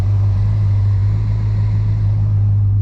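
Dodge Charger fitted with a new cam and tune cruising at steady speed, heard from inside as a deep, constant engine drone with a low rumbling burble, loud and unbroken, no talking.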